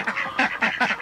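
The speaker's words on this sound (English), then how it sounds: "as you can see, the ducks are out" Several ducks out in the morning at a small homestead quack in quick, close, overlapping bursts, loud and clear.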